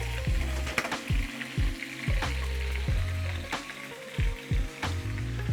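Chicken and rice fry steadily in a pan, a continuous close sizzle with repeated low thuds and scraping bursts at a regular rhythm throughout.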